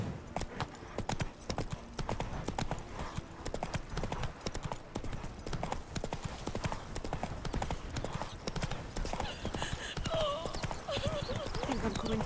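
Horse hooves gallop in The Witcher 3, a fast, steady clip-clop rhythm running throughout with game ambience, a brief whinny-like tone near the end and some speech mixed in.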